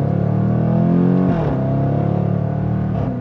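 A 2024 Jaguar F-Pace SVR engine pulls under light throttle with a loud, steady, droning tone. Its pitch dips and recovers around the midpoint and shifts again near the end. No one speaks.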